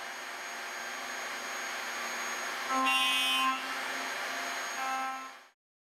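A power saw or router cutting dovetail slots in the corners of wooden boxes using stop blocks: a steady, loud high-pitched machine whine that rises briefly as the cut is made, then drops away as the tool winds down.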